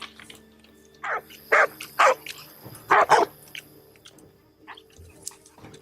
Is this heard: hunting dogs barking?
yes